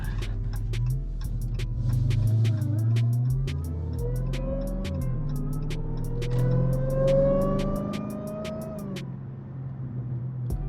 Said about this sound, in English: That supercharger be sounding so crazy